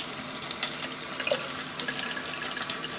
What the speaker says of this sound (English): In the gents' toilets they also have this cleaner sink, so I'm going to run a little bit of water down here as well.